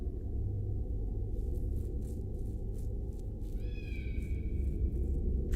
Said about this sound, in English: I hear her down there meowing.